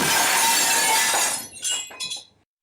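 Glass shatters loudly in a single sustained burst, followed by a few scattered tinkling fragments that fade out within about two seconds, with no voices.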